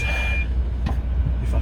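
A truck's reversing alarm sounds while the truck backs up, a couple of short beeps over a steady low engine rumble inside the cab.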